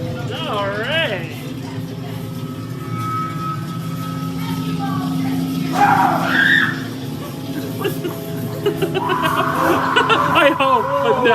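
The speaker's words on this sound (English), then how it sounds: "That girl was screaming." A girl screams inside Infernum in Terra, a Halloween haunted house attraction in Wheeling, West Virginia: shrill squeals rise over a busy mix of talk and laughter, flaring sharply midway and again near the end.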